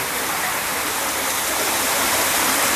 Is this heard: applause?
no